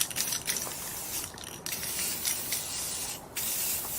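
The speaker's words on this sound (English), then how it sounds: "I'm using this Color Shot black matte paint, and we're going to spray the entire thing." Color Shot black matte spray paint hisses steadily from an aerosol can in close, continuous bursts, with brief pauses and faint rattling and rubbing between passes.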